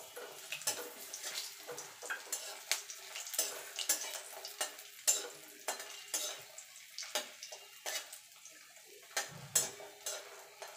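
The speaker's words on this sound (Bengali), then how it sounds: "বড়িগুলোকে লাল লাল করে ভেজে নেব" Lentil dumplings (bori) frying in a pan until reddish, with a steady sizzle broken by frequent scraping stirs and light clinks of a spatula against the pan; no voices.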